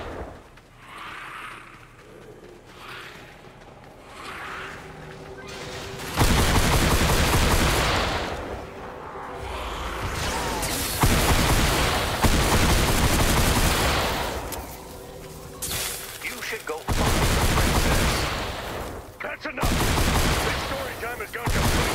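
Rapid video game gunfire shooting at monsters, heard as loud, dense bursts of automatic fire and explosive blasts in long stretches, with quieter gaps between volleys and voices talking over parts of it.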